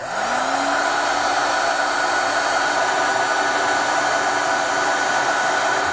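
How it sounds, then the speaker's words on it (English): A heat gun spins up and blows as a loud, steady, close whoosh while shrinking heat shrink tubing on wiring, with no one speaking. "heat gun and shrink it up"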